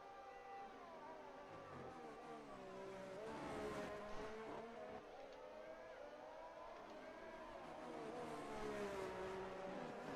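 An F1 race car from F1 2023 laps the Circuit of the Americas, its high-pitched engine whine rising and falling steadily through gear changes at moderate distance, with no talking.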